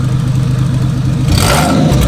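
A Toyota 1JZ engine in a Soarer with a single turbo kit, running on its first startup, a loud, close, rough idle with pulsing low rumble that surges into a brief rev with turbo hiss near the end.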